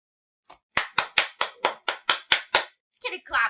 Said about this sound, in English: Let's get a clap for that one.